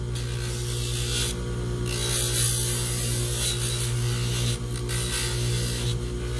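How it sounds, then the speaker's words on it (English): Denture tooth being ground with a small rotary tool, a steady close whine and buzzing drone with brief dips and rises in pressure, heard alone with no voices. "I still have to grind on the tooth."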